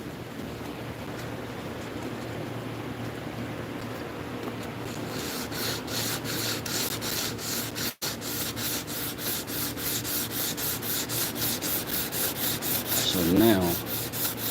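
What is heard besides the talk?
sanding wood by hand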